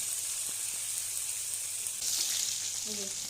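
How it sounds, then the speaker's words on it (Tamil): Chicken pieces for Japan chicken deep-frying a second time in hot oil over a full flame, a loud, continuous crackling sizzle close by, with no break and a brief spoon or pan clink near the end. "ஃப்ரை பண்ண சிக்கனை அதே ஆயிலில் மறுபடியும் போட்டு இன்னொரு டைம் நல்லா ஃப்ரை பண்ணிக்கோங்க"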